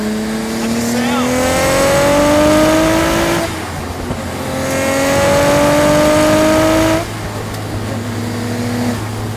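A Nissan GT-R with old-school R32 gauges accelerating hard on a race track, engine note climbing through two long gear pulls with a brief dip at the shift, loud and close, nearing 200 km/h.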